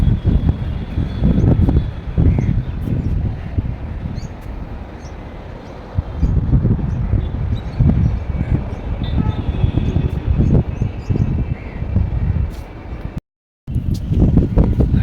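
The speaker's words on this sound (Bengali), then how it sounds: "এত হাওয়া।" Strong wind buffets a rooftop garden beside a highway, loud gusting rumble against the microphone that surges and eases in waves, with a brief dropout near the end.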